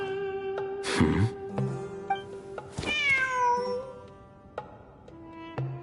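A cat meows in Genshin Impact, first a drawn-out cry, then a longer wavering mew, heard close and clear over soft game music.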